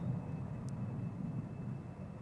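Embraer 190 jet taking off from the Polderbaan runway 36L at Amsterdam, a low, distant rumbling roar that stays steady and fairly faint, with a thin tonal whine above it.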